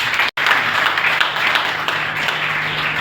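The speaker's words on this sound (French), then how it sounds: "et donc on peut s'applaudir nous tous." Audience applause at a political party gathering in a meeting hall: dense, steady clapping from a crowd that fills the whole stretch, broken only by a very short cut near the start.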